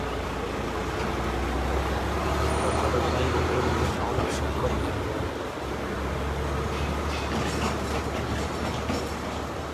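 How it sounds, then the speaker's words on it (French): A heavy vehicle rumbling past outdoors on a street in Israel, a steady loud low roar with rattling that holds for several seconds before easing slightly, with a voice speaking over it. "On va laisser passer le camion 2 minutes."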